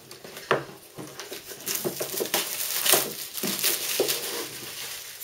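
Loose plastic packaging crinkling and rustling as a Therion board game box is unpacked, a continuous crackly rustle with sharper crunches up close, no talking.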